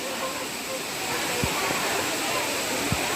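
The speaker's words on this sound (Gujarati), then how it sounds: "અને એની ઉપરના ધોધ" A waterfall above the Jatashankar Mahadev temple in a forest near Junagadh roars as a constant, dense rush of falling water, loud and close, with a couple of faint low thumps.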